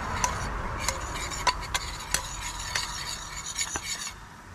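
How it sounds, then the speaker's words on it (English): A utensil stirs flour in a pot while a lobster dish cooks, giving light, regular scraping clinks and taps against the metal, about one every half second, over a soft background hiss. "Go ahead and stir it. Get the flour cooking"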